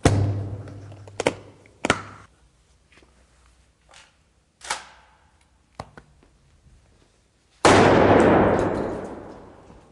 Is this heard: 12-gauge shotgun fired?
yes